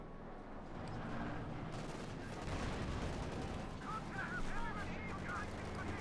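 MG34 machine gun fire in a Company of Heroes 2 battle, a dense continuous rattle of gunfire and explosions, with a commentator talking over it.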